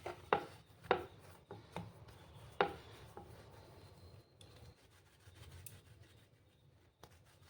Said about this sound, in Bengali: এখানে এখন আমি লিচি কেটে নেব।